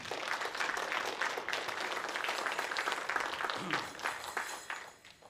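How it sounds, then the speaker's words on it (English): A crowd claps steadily for several seconds, dense and sustained, then the applause tapers off. "Let's give them a round of applause."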